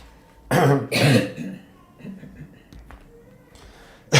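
A couple of harsh, throaty coughs close by, followed by quieter rustling and faint sounds, then another short burst at the end.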